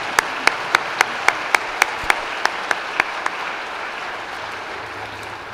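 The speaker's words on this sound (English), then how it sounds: "Let's give them a big round of applause for their music this morning." An audience applauds the university big band at a morning convocation ceremony. Sharp individual claps ring out close by in a steady rhythm, thinning and fading over the first few seconds before the room settles into quiet murmur.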